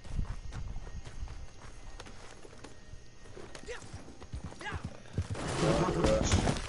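Horse hooves clop in Red Dead Online, a run of uneven hoofbeats over game ambience that swells into louder rushing noise near the end.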